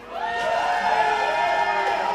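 Live show audience in a hall cheering and whooping continuously, a sustained crowd roar with high voices rising over it for the whole stretch.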